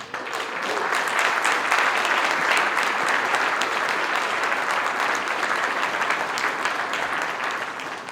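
Sustained applause from a conference audience at a National Conservatism gathering, a dense steady clapping that holds at an even level for about eight seconds with no voices on top.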